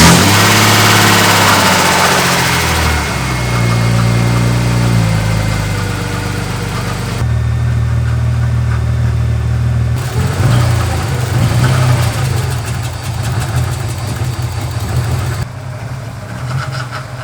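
A BMW E36 race car engine runs loud and close, idling with a rough low drone and shifting in pitch as it is revved, with abrupt changes in tone along the way.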